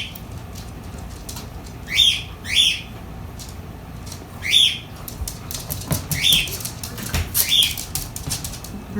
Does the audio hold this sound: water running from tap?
no